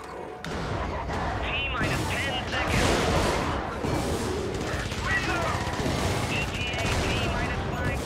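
Video game firefight aimed at a tank, with dense overlapping gunfire and heavy blasts, loud and continuous, while a player's voice talks over the shooting.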